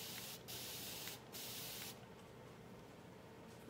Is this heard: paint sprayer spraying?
yes